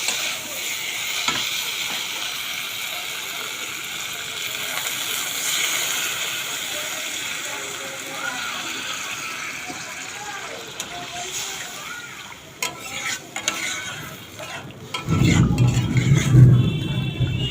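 Potatoes sizzling in oil for a rui fish curry crackle steadily while a voice talks, then water pours in with a sudden low splash and sloshing that rises louder at the end.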